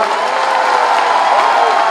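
A crowd at a Bharatiya Janata Party election rally claps loudly for a candidate, a dense continuous wash of applause with some cheering mixed in.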